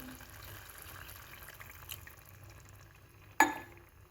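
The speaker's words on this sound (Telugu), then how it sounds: "ఇప్పుడు దీంట్లో కొంచెం వాటర్ యాడ్ చేద్దాం" Water poured into a pan of frying mutton gravy curry gives a faint, steady splashing, then a sharp sizzling burst near the end; no one speaks.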